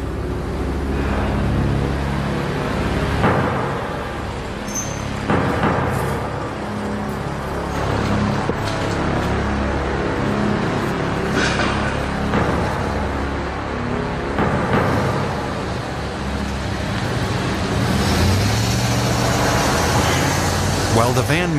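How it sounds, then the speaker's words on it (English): Cars and heavier vehicles roll past a prison transport motorcade, a steady roadway roar broken by repeated swells of vehicles going by, with voices talking underneath. "A lot of cars going by"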